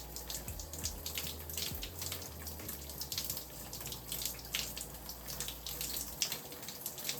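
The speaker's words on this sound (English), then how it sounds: "I'll just cleanse my face gently." Running water in a shower while a face is cleansed with La Roche Posay face wash, a steady close splashing hiss with irregular spatters and drips throughout, no voices.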